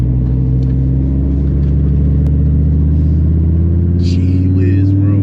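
A 2017 Dodge Viper GTC ACR Extreme's big engine rumbles loud and close at idle, with a few sharp exhaust pops near the end.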